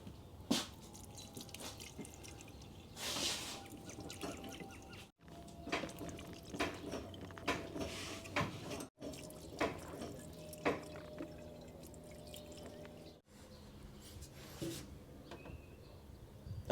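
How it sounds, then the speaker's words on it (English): Acetone poured into the engine of a 1955 Cadillac left in a junkyard for 60 years: faint trickles and irregular drips, quiet and close, in short bursts split by brief gaps. "We'll pour a little bit of acetone in it too."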